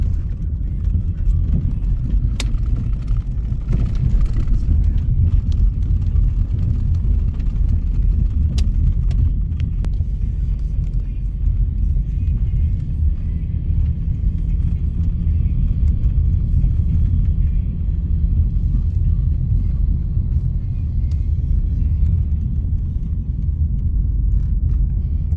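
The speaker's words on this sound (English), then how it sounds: "I could drive through here forever." A car drives along a rural road at the edge of a Polish town, with a steady, loud low rumble of engine and road noise that runs unbroken throughout.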